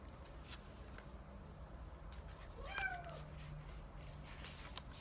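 A house cat gives one short, fairly faint meow midway through, set against a steady low room hum with no one talking.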